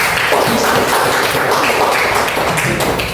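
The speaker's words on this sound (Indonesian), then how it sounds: "Iya, tepuk tangan semua." A school class applauds together, a dense, steady wash of many hands clapping close by, sustained and loud for about three seconds with no talking over it.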